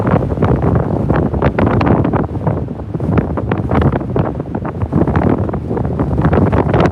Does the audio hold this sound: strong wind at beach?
yes